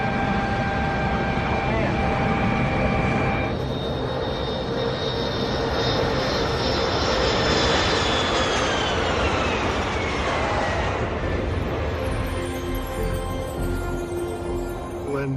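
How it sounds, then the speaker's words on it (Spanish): A Boeing 747 jumbo jet airliner lands with a loud, sustained engine roar and a rising then falling whine, steady and close throughout. "mientras Jack realizaba un buen aterrizaje delante de toda aquella gente"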